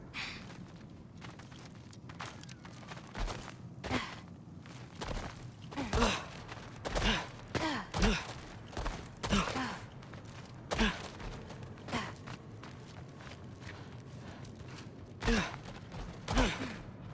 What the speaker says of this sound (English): Something breathing near the back of the cellar.